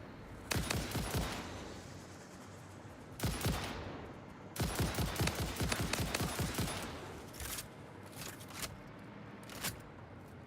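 In Satisfactory, a small fire creature shoots at the player, sending loud rapid bursts of shots that come in rattling volleys with short gaps, then taper off into scattered single shots.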